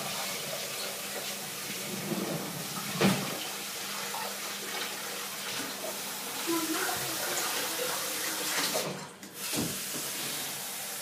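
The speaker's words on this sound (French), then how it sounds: "j'ai pris de l'eau chaude du robinet, très chaude, bouillante" Very hot water pours steadily from a kitchen tap, a continuous close rushing stream with a brief knock and a short break near the end, no voices.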